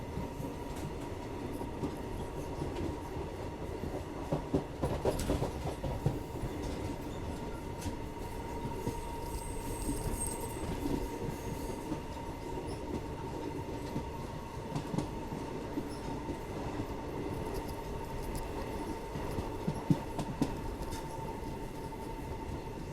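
Bidar to Bengaluru SMVT express train running through the Kalaburagi route, a steady continuous rumble of wheels and carriages heard from onboard, with faint rhythmic clatter and occasional squeals, no talk.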